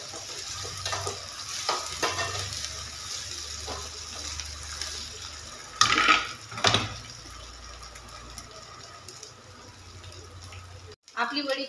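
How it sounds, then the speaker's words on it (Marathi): Thin slices of colocasia leaf vadi fry in a pan while being stirred, making a moderate sizzle with louder bursts of hiss and scraping midway. A voice can be heard talking over the frying. "हे वडीचे असे बारीक काप करून घ्यायचे आणि यामध्ये घालून घ्यायचे. छान याला छान फ्राय करायचं"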